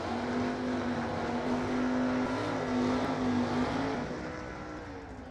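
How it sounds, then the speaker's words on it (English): A loud NHRA stock eliminator drag racing car engine holds a steady, rasping roar, then fades slightly toward the end, with no voices over it. "loud stock eliminator car I've ever heard."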